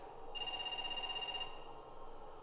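Telephone ringing in the video game Parasite Eve 2, a single electronic trilling ring lasting about a second over a low ambient drone, then silence from the phone.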